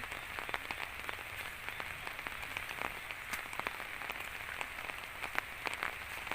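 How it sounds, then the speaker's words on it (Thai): Steady rain patters and drips on a surface, a dense wash of small droplet taps with no voices. "น้องฟ้าก็โดนฝนนะคะ"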